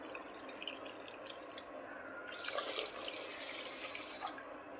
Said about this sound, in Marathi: त्यामध्ये मी पाणी पण मोजूनच टाकणार आहे ग्लासामध्ये एवढंच।